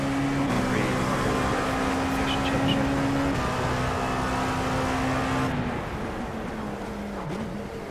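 A race car engine drones steadily in a sim racing game at Sebring, holding a sustained tone that shifts pitch a few times before easing slightly toward the end.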